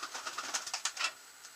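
Racing pigeons in a loft coo and murmur in a steady run of soft, overlapping calls, fairly close and moderately loud, with no voices among them.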